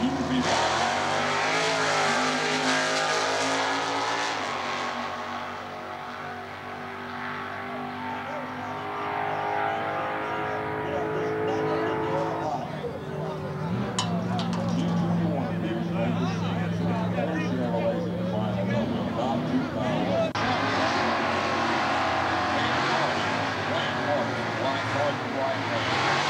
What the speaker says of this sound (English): Camaro, Super Stock G Automatic, 396, factory rated 325 horse